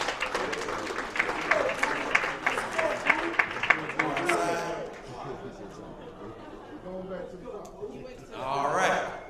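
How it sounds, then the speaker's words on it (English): Audience applause at a poetry slam, a burst of clapping with cheers and chatter that tapers off, followed by a short swell of crowd noise near the end. "let's give a round of applause for Buddha Fool as he comes back to the stage"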